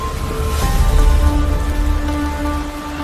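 Heavy rain pours onto the ground at an outback gem mine, a close, loud, steady patter and hiss with a low rumbling undertone, and no voices.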